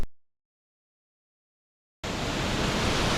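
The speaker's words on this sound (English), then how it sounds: "waterfall" A waterfall on an autumn leaf-peeping hike in the woods near a cabin: after near silence, a steady, loud broadband rushing roar starts abruptly and holds without pause.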